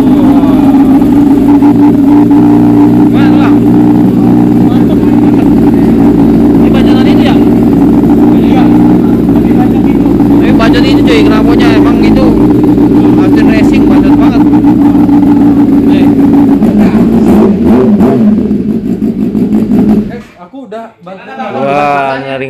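A modified big motorcycle, shown at a showroom in Bali, runs loud and close with a deep, steady engine rumble and repeated throttle blips. People talk over the engine, and the sound cuts off near the end, leaving only voices.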